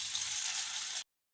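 Fish frying in hot oil in a wok with turmeric, a steady, close, loud broadband sizzle that continues for about a second and then cuts off abruptly, with no voices.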